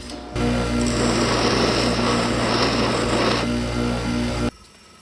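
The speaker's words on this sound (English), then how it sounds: "Just grind a little bit of that off." Grinder running steadily on metal, taking material off the A/C tensioner of a 2005 Subaru Outback XT Limited, a loud continuous whine close by that cuts off abruptly near the end.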